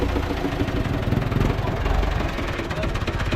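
A tractor at a Thai boat yard, used for moving boats, runs with a steady, dense engine rumble and vibration that stays loud and unbroken throughout, with no voices.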